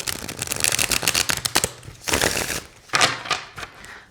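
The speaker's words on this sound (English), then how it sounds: "Yeah, I really, really like how they shuffle." A Golden Tarot deck with gilded edges is shuffled by hand in quick riffling bursts, close up, with short crisp clatters between pauses.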